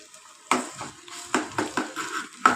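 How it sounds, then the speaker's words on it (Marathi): Ginger garlic paste added to fried browned onions in a pan for a green pea curry, with a soft sizzle under repeated scraping and clinking stirs of a spoon against the pan, close and moderately loud. "त्याच्यामध्ये अद्रक लसणाची पेस्ट टाकून घेऊ।"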